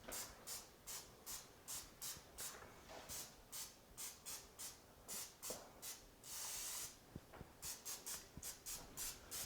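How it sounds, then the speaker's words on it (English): Butter-flavored Pam cooking spray is misted over cornstarch-coated chicken wings on a Blackstone air fryer griddle combo, with many short rhythmic hissing bursts up close and one longer continuous spray midway. "Of butter-flavored Pam spray."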